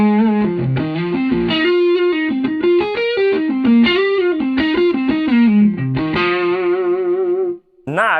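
Overdriven electric guitar played through an amp with a drive pedal switched on, a continuous run of distorted notes and chords with a glassy, effects-laden edge, loud and close, ending in a brief pause and a final strum.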